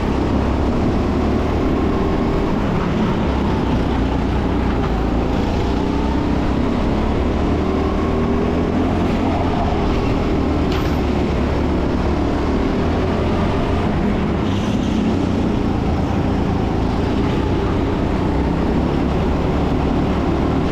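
A racing kart engine drones steadily and loud throughout on an indoor TeamSport kart track, a continuous dense motor roar with no speech.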